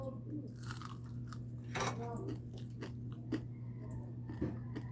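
Someone eats a home meal of fried egg and dried fish (tuyo) up close, with crunchy bites and wet chewing in irregular bursts over a low steady background hum.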